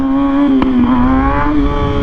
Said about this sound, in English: the engine brake brought me back down when I was off the gas